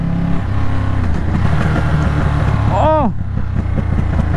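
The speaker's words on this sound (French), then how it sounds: "oh là là, mais je kiffe cet échappement." A Triumph Street Triple motorcycle's exhaust rumbles loudly and steadily at close range, briefly swelling in a short rev, while a man exclaims over it.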